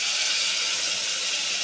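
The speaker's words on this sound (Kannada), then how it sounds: "ಈಗ ರುಬ್ಬಿರೋ ಮಸಾಲ ಸೇರಿಸ್ತಾ ಇದ್ದೀನಿ ನೋಡಿ" Ground masala paste sizzling in hot oil for a Kannada-style mutton gravy, a steady broadband hiss that holds evenly and fairly loud throughout, with no talk over it.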